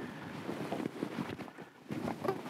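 Wind on open water during a winter crappie fishing trip from a boat buffets the microphone in uneven gusts, a moderate rumbling whoosh that swells and fades over a couple of seconds.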